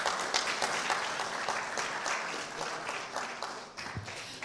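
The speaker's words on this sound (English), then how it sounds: "I think he deserves a better round of applause." Conference audience applauding at an agribusiness event in Ghana, moderately loud and steady crowd clapping with slight swells, continuing for several seconds.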